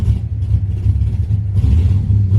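Chevrolet Blazer engine revving past 2,000 RPM, a loud close deep rumble that rises and falls in a couple of throttle blips, heard on its own.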